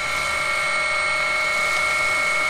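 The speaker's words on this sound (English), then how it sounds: "今上空からヘリコプターが第3号機に向かって飛行しています。" A CH-47 helicopter flying toward damaged reactor unit 3 gives a steady, loud whirring drone with tonal hum, unbroken and continuous throughout.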